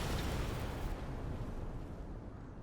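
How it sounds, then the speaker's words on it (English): Explosion in the video game Chained Echoes, a loud, dense rumbling burst that slowly fades over a few seconds, with no talk. "He's going to explode."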